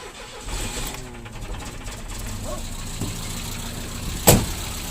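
A ZMZ 406 engine cranks and starts on gas, then settles into a running hum. A sharp, loud click or clunk lands near the end. Everything is heard close up, with no talk.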